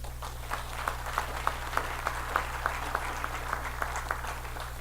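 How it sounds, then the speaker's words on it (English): A Rotary audience gives applause, sparse and fairly faint claps landing in a loose, almost regular rhythm over a steady low hum, with no talk. "that deserves an applause."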